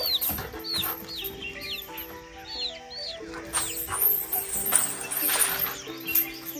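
A mother hen and her young, newly feathered chicks are heard together: repeated high peeping chirps from the chicks over low, rhythmic clucking from the hen, close by, with brief busier stretches.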